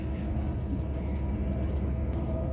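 Onboard a TransPennine Express Class 185 diesel train running along, a steady low rumble and rolling drone fill the cabin at moderate level with no clear speech.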